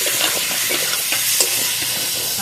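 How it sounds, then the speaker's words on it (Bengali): Spiced potato curry, aloo dum seasoned with coriander and cumin powder, sautés in a pan with a loud, close, steady sizzle and quick spatula strokes scraping through it. No speech. "এবার আমি ভালোভাবে কষিয়ে নেব।"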